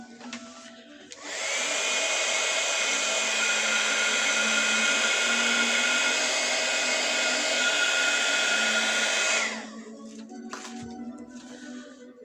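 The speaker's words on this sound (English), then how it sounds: "we've got to get the little old heat gun onto it" A heat gun blows hot air with a loud, steady roar that starts abruptly, holds for about eight seconds, then cuts off, with quieter handling sounds before and after.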